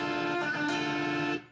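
An electric guitar plays a brief sustained chord from a song, ringing steadily for about a second before cutting off, close and moderately quiet.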